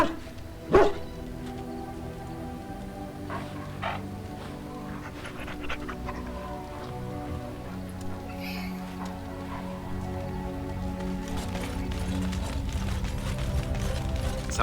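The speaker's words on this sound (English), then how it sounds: "What you barking for?" A dog in Dragon Age: Origins pants and gives short barks and huffs over a steady bed of game ambience and music, with one sharp bark standing out early and the background swelling toward the end.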